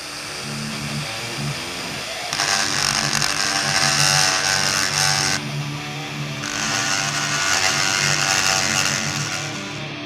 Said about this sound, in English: a Dremel, and we will use this to take off our tiny little spot here